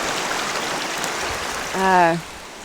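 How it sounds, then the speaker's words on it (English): A creek rushes steadily in a broad, hissing wash, with a short spoken voice rising briefly over it near the end. "that creek was the noise that I heard"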